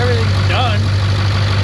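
A 7.3 Powerstroke diesel truck engine fitted with a KC300X turbo idles while warming up, a loud steady low rumble with a constant drone and a faint whistle rising briefly over it.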